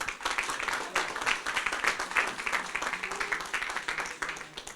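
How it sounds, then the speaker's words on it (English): An audience at a charity jubilee dinner claps steadily for several seconds, a dense, fairly close round of applause at an even level with no break. "Ladies and gentlemen, big round of applause for Issac Kakun."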